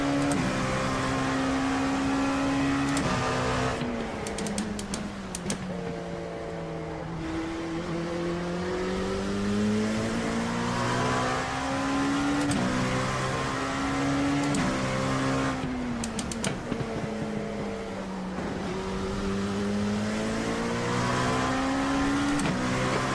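Hypercar engines on cold tires at Sebring in an IMSA racing video game drone steadily, pitch rising and falling with shifts and revs, loud and continuous without a break.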